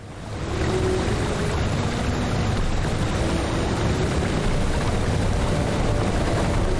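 A waterfall in the video game LOTRO makes a continuous rushing wash of falling water. It swells in over the first half second, then holds a steady, full roar with no voices.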